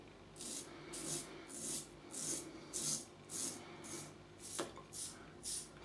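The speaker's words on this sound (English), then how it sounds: "Shaving this way" A razor scrapes through sandalwood shaving cream in a wet shave, making about ten regular rasping strokes, close and clear, with no talk.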